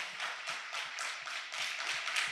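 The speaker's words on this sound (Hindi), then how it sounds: "आए जोरदार तालियां बजाएंगे यीशु नासरी के लिए," A Christian congregation at a church sermon claps loudly together in a steady, rhythmic beat, the crisp claps landing roughly three times a second and filling the room without any talk over them.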